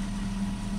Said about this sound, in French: Je mets la prise de force en route.